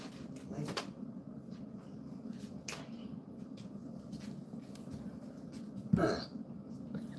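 Jasper the dog gives a single short burp near the end, heard over a low, steady indoor hum, with a few faint knocks and bumps earlier on.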